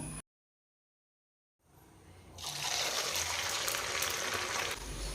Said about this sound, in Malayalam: ഇതുപോലെ തന്നെ നമുക്ക് ബാക്കിയുള്ളതും കൂടി ഫ്രൈ ചെയ്തെടുക്കാം